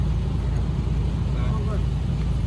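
A farm tractor drives fast close by, its engine a steady, loud low rumble, with voices talking over it.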